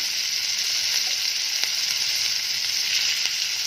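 Onion paste sizzling in a hot pan of oil, a steady bright hiss and crackle that holds evenly throughout with a few faint pops.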